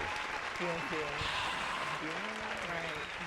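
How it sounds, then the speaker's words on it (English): An audience claps steadily at a live music show session for a few seconds while someone talks over the applause. "Go ahead and get some claps for the top 5."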